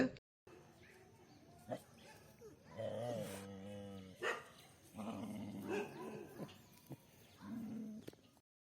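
A dog outdoors in a garden gives a series of barks and throaty growling bursts that rise and fall over several seconds, fairly close and moderate in level, with bird calls faintly behind.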